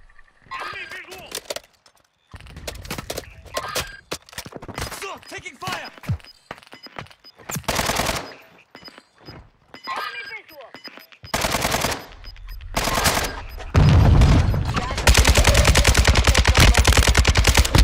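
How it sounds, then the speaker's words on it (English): Heavy automatic gunfire from a Call of Duty Warzone match, bursts of rapid shots building to sustained loud firing near the end, with squad voices talking over parts of it. "Taking fire!"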